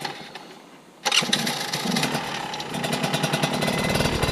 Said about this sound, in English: So Tim, just show us a whole variety of wheelies.